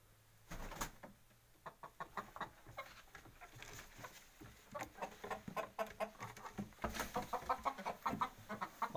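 Hens clucking inside a chicken coop holding thirteen hens and two roosters, soft close clucks and scratching pattering sounds at a low level, building into busier overlapping calls toward the end.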